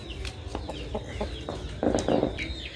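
A rooster crows nearby in Paulo Ramos, Maranhão, Brazil, its call rising loud midway through, with scattered clucks and farmyard noise around it.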